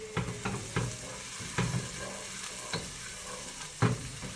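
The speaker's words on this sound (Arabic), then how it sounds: "صح بدنا نحرك" A spoon scraping and stirring onions frying in a pan, with spices added, as a stuffed chicken dish is cooked: a steady soft sizzle broken by a few irregular, close scrapes.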